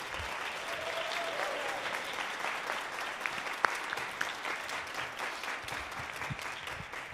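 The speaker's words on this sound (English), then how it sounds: "Can we give him a round of applause" An audience at a honor band concert applauds a piano-playing teacher, steady dense clapping from a crowd filling the hall, fairly even in level throughout.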